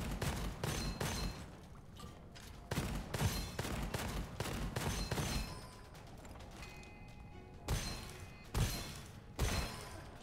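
Gunfire in the first-person shooter Gunfire Reborn comes in rapid bursts of sharp, close shots with short pauses between volleys, loud against a quieter game background.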